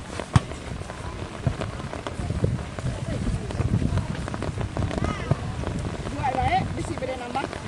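Rain pours steadily on a semi-final match of a local village football tournament, a dense hiss with scattered sharp knocks and people talking under it.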